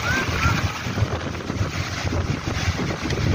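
Sea waves washing near the shore, a steady broadband rush of surf with wind buffeting the microphone, continuous and fairly loud throughout.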